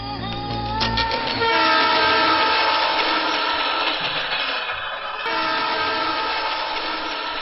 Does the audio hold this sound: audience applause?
no